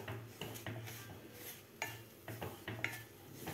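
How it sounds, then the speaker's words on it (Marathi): Semolina (rava) roasting in ghee in a pan over a medium gas flame, heard as a series of close scraping and stirring strokes against the metal, with a faint sizzle underneath. "आता मीडियम गॅसवर आपल्याला ही रवा व्यवस्थित भाजून घ्यायचा आहे।"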